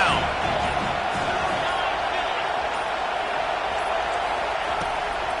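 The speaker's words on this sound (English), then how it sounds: "Decibels rising as the crowd gets behind this defense on 3rd down." A stadium crowd at a Miami vs NC State college football game roars steadily and loudly for the defense on third down. A commentator talks over the roar.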